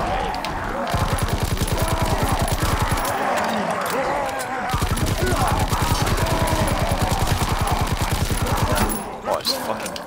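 A Chatellerault light machine gun fires in a WWII video game, with rapid sustained bursts of sharp shots broken by brief pauses, loud and close.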